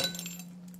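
A small metal washer drops while a Singer 27 sewing machine is being reassembled, a single bright clink with a brief ringing tail, close and quick.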